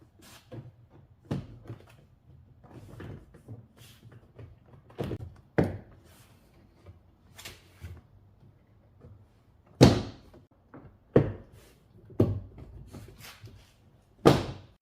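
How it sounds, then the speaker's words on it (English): A series of sharp thunks and snaps as seven plastic clips are pressed into a 2010 Audi B8 S4 door panel, irregularly spaced, some louder, with quiet handling between. "Now we'll pop in the door panel via all of the 7 clips."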